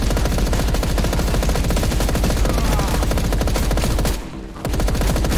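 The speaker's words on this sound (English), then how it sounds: "look at the bullets just squirreling out everywhere with this thing" Loud, nonstop rapid automatic gunfire in the video game Paint the Town Red sprays out in a dense rattle, then cuts out briefly before the burst resumes.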